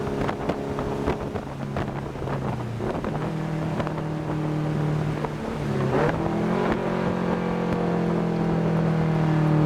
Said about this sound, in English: It kind of sounds like a Honda, but it's deeper because it has a turbo